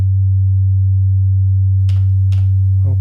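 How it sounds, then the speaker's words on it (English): A steady, pure sine tone from a Nyoni module on an Instruō modular synthesizer hums alone and loud for three seconds, with a couple of brief soft clicks near the end. "we're just going to monitor a sine wave from this Nyoni"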